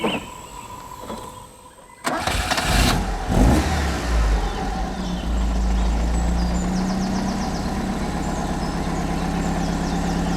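An Alfa Romeo 33, with freshly reset ignition timing and balanced bank vacuum, is quiet at first, then cranks and fires with a loud burst before settling into a steady, close idle just under 1000 rpm.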